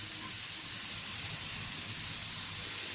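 Guava chutney ingredients sautéing in a pan, giving off a steady, even sizzle and hiss that holds at the same level the whole time with no talking.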